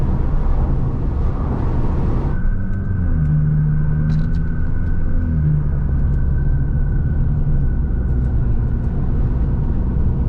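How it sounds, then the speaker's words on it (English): Audi S3 8V with a stage 3 tune making 530bhp, its exhaust and engine rumbling loud and close as it drives, a rough roar settling into a steady low drone with a faint whine on top. "you can hear the exhaust die off."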